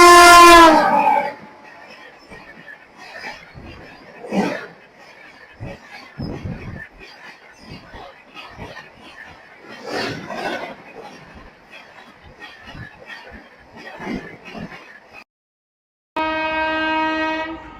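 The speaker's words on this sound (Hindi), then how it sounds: "14050 दिल्ली गोडा एक्सप्रेस जो कि वीकली ट्रेन है।" The 14050 Delhi Gonda Express, a weekly train, sounds its horn loudly, then fainter clatter and rumble follow as it runs past at full speed, with a second loud horn blast near the end.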